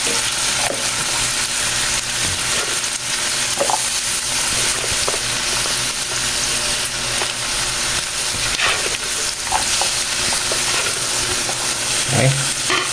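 Kamias (bilimbi) fry in a hot pan with a loud, constant sizzle, and scattered scrapes and taps from stirring run across it.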